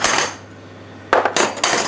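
Metal cutlery clinks and clatters against dishes in a kitchen, a few bright sharp strikes separated by a quiet pause, close and loud.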